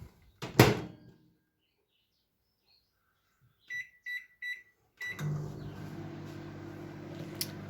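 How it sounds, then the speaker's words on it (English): A door thuds shut, three quick beeps sound from a keypad, then a microwave oven starts humming steadily nearby. "So going in the microwave"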